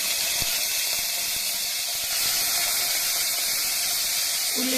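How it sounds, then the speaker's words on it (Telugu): Cumin seeds sizzle in hot oil at the start of a tomato and beans curry made with milk. The hiss is steady, loud and close, and it keeps a bright crackling texture the whole way through. "నూనె వేడెక్కింది కొంచెం జీలకర్ర వేస్తున్నాను"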